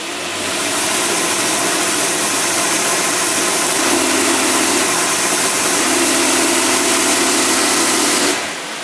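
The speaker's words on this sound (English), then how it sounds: "now we're going to put the rev limiter on it. We're going to see what it'll go all the way up." A car engine is revved hard up to its rev limiter, a loud, sustained roar that holds near the top for several seconds with a slight bouncing at the limit before dropping off at the end, heard alone without talking.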